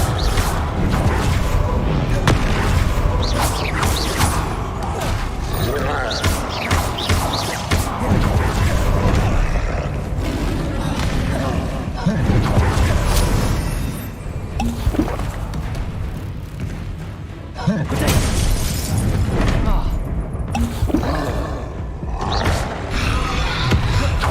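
Hogwarts Legacy combat filled with loud, dense magical blasts and thuds from the Confringo explosive spell, striking one after another with brief lulls.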